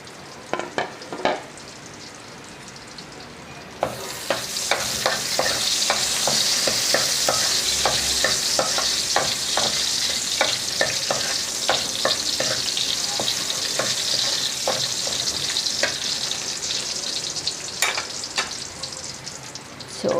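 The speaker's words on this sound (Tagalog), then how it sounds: "So magigisa muna tayo ng bawang tapos ibabalik natin siya sa kawali." Garlic and pork sautéing in a frying pan for home-style pork steak: a strong steady sizzle starts a few seconds in and keeps going, with repeated sharp clinks and scrapes of a utensil stirring against the pan, and no talking.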